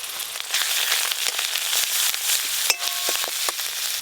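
Onion paste and spices sizzle and crackle in hot oil in a pan for a prawn malaikari, a steady close frying hiss broken by sharp pops and a few scrapes of stirring.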